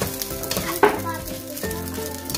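Spicy fried rice sizzles and crackles in a hot pan while it is stirred, with close, loud frying and a few sharp scraping bursts from the stirring.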